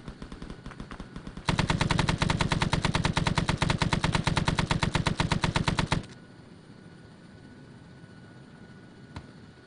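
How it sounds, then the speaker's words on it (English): An ARMA 3 S.O.G. Prairie Fire door gunner fires a long continuous burst from a Huey helicopter's machine gun, rapid loud close shots lasting several seconds, then stopping to leave the helicopter's rotor drone alone. "Shots fired."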